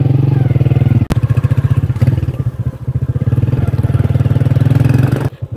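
Motorcycle riding on a road on a cloudy, breezy day, its engine chugging loudly and steadily close by, with a sharp clack near the start.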